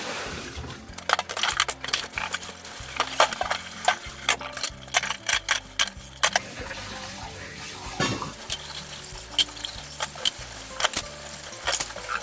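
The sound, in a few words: washing dishes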